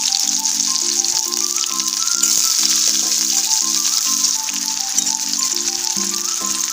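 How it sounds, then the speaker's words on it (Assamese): Onions fry in a pan with a continuous bright sizzle, heard under steady background music. "পিঁয়াজখিনি মই অলপ ৰঙচুৱাকৈ ভাজি ল'ম"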